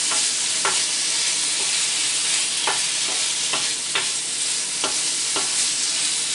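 Prawns and garlic frying in a hot pan, a continuous loud sizzle broken by regular scraping strokes of stirring, close up with no talking.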